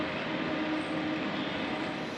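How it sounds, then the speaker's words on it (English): Trains rolling into and out of Luzern station, a dense and continuous mechanical roar and hiss with no clear breaks, fairly loud and close. "right now there's plenty of time to drink in all the different trains coming into and out of Luzern"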